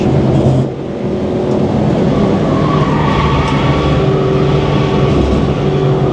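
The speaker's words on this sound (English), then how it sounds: "We'll try a cheeky fourth gear up change." A Citroen C1 race car on a track drones loudly from inside the cabin, its engine note dipping briefly near the start during an upshift into fourth gear, then holding steady.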